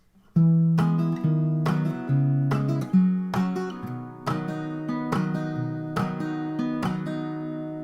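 Plucked guitar notes and strummed chords ring out at a steady pace, each attack decaying into sustained tones, played alone and close.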